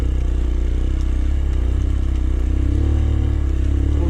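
A dirt bike ridden enduro-style with heavy luggage bags over slippery logs, its engine a loud, continuous close rumble with a rattling clatter, no voices.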